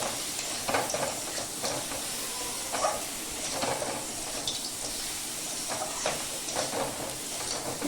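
Egg tadka masala with turmeric and a little sugar sizzles steadily in the pan as it is stir-fried, a continuous close frying hiss broken by soft scraping stirs, with no talking.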